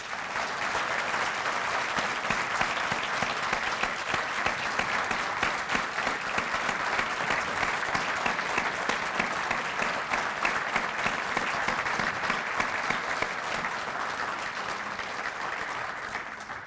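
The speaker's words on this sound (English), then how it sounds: "please, in a final round of applause for all of our honorees" Sustained, dense audience applause for honorees at a human rights awards ceremony in a convention center, a steady loud wash of clapping lasting throughout without letting up.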